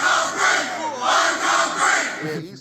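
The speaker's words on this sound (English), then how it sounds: "An angry crowd rushed the riot squad." An angry crowd rushes a riot squad, a loud mass of roaring, shouting voices that swells and eases in repeated surges across the whole moment.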